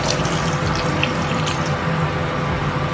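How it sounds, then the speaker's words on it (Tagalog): Pasta water poured into a pan while making tuna pasta, a steady, loud rushing splash of liquid that runs continuously with no talk. "Lagay lang ako ng pasta water natin kanina."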